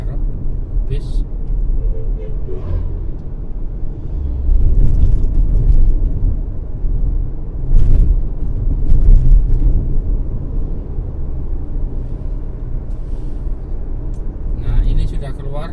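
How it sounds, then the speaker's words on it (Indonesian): Cars and pilgrimage buses roll along a bumpy road through Panceng forest near Sidayu, a loud continuous engine and tire rumble with passing surges, heard from inside a moving vehicle while a person talks. "Nampak kan banyak mobil ziarah,"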